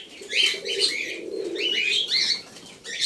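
Pigeons in a loft coo and call in repeated soft bursts, close by, with a brief flutter of wings and a low background hum.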